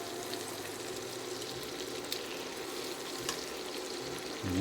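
Lemon zest and lemon slices sizzle steadily in a hot pan while chicken piccata cooks, a continuous close frying hiss with small crackles and a brief louder flare near the end.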